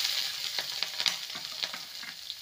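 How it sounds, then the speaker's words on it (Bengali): Ginger and green chili paste sizzles in oil with whole spices and cumin seeds, a steady close frying hiss broken by a few sharp spatters and stirring scrapes over about two seconds. "এবার দিয়ে দেব আদা আর কাঁচা লঙ্কা একসঙ্গে বেটে রাখা।"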